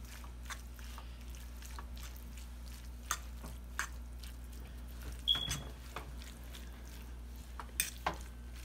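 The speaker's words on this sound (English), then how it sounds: "And my seasoning. And stir it up a little bit." Seasoning being stirred into cheesy corn casserole ingredients in a pot: scattered soft scrapes and clicks of a spoon over a steady low hum, quiet and close, with no talking.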